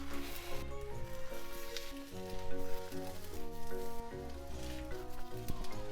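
Tamagoyaki egg sizzles in an oiled frying pan, a soft, steady hiss heard faintly beneath prominent background music.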